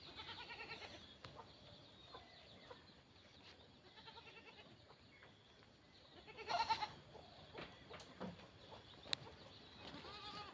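Goats on a small local farm that also keeps chickens give faint, distant bleats amid low farmyard background noise, with a few louder calls near the middle.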